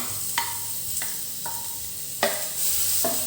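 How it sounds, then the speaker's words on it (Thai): Pounded garlic fries in hot vegetable oil in a pan with a steady sizzle, while a utensil stirs and taps against the pan in a few sharp clinks, close and alone. "ใส่น้ำมันพืชลงไปครับ ใส่กระเทียมที่โขกลงไปครับ"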